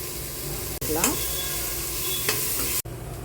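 Green chillies with coriander, curry leaves and mint sizzle steadily in a hot pan, a continuous frying hiss broken by a couple of stirring scrapes and one brief pause.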